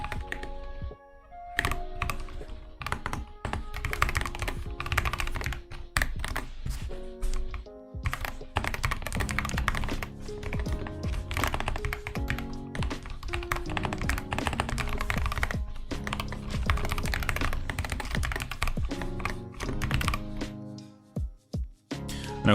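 Fast, steady typing on a new computer keyboard: dense, continuous key clatter with short pauses, running for the whole stretch over a tonal musical background with no talking.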